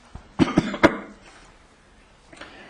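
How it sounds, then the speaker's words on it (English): Three quick, sharp coughs close to the microphone, followed by quiet breathing and a faint throat sound near the end. "I've got a cough."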